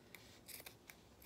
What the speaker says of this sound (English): I'm just now going to snip straight across